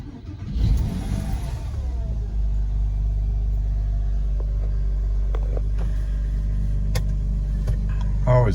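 A Porsche 356 cranks briefly and fires up in a garage, then settles into a steady, loud, low rumbling idle with a few faint clicks and knocks on top.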